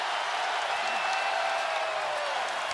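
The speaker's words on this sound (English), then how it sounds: "And the crowd's starting to celebrate." A basketball arena crowd at a Knicks vs Celtics playoff game roars and cheers steadily, a broad continuous wash of distant applause and shouting lasting a few seconds.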